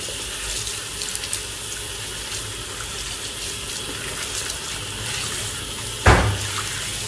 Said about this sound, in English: Now rinse your hands.